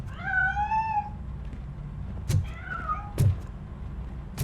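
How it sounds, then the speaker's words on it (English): A cat meows in the Robocop: Rogue City video game, one long rising-falling meow followed by a shorter second one, fairly clear over a low background hum, with two sharp thuds after. "That cat must be hiding inside."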